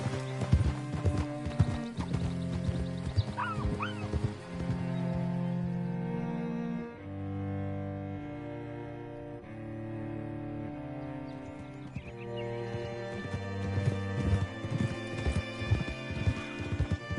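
Horse hooves clip-clop steadily in a Red Dead Redemption game scene, a near rhythmic trot with occasional neighs, layered over a musical score.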